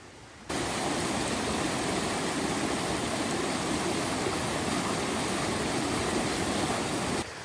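A flood-swollen creek in rocky Appalachian country rushes past in a dense, loud, unbroken roar that starts abruptly and cuts off just before the end, with no voices.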